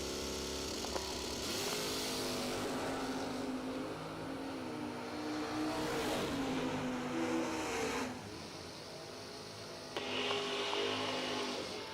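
Drag racing car at a Street Fighter Gangster half-million event, driver working on and off the throttle and nitrous, a loud continuous engine roar with surges and dips around every few seconds, heard from a distance with crowd-like ambience.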